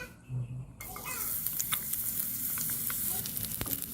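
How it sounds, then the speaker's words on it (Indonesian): Shallots sizzling in hot virgin coconut oil in a pan, a steady crackling hiss with scattered pops and a few stirring scrapes, close and fairly loud, starting abruptly after a brief pause. "Kalau sudah panas minyaknya, tumis terlebih dahulu bawang merahnya."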